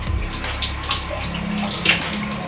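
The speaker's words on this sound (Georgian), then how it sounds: "მაგრამ წყალს როგორც მოუშვებ." Water runs steadily from a tap through a gas water heater under repair, a continuous close rushing flow with small splashy fluctuations throughout.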